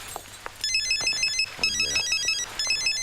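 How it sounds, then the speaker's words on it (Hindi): A mobile phone rings with a bright, repeating electronic ringtone for an incoming call, loud and close, pulsing in short melodic bursts over faint background noise. "वो तो मेरे बॉस का फोन आ गया ना, इसलिए आप लोग बच गए"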